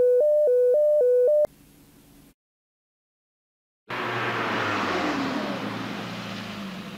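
A first-generation Volkswagen Golf from about 40 years ago on a test drive: a few steady electronic beeps, a short silence, then continuous loud engine and road noise with a low rumble.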